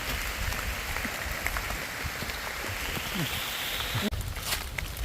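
Steady rain falls in the open as a continuous dense hiss of drops, fairly close and even, with a brief sharp knock near the end.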